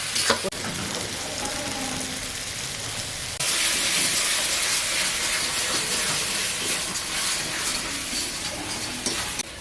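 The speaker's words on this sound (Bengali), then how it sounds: "এবার নুন দেব মশলাটাকে ভালো করে ভেজে নেব" Spices and salt fry in a pan for a snakehead fish curry, a continuous hissing sizzle that grows louder partway through, with occasional faint clinks and no speech.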